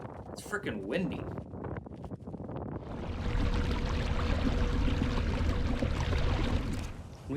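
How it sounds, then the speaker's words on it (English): Strong wind on a lake while bass fishing in March, a loud continuous rumbling buffet against the microphone that builds after some early talk and persists to the end. "It's freaking windy."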